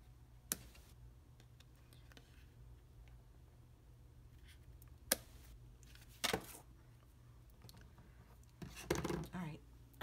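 Scissors trim paper for a handmade card in a quiet room, giving a few sparse, crisp snips spread across the stretch, with a small cluster near the end and soft background noise between.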